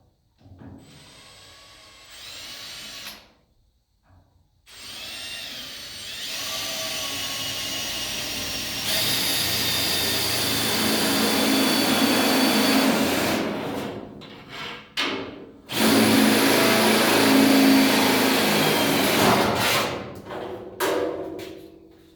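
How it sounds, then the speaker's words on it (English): A power drill bores through the fenders of a Ford Model A during a build, a loud, sustained whine close by. It runs in long bursts that stop and start again, with pauses of near silence between them. "I'm going to drill these fenders."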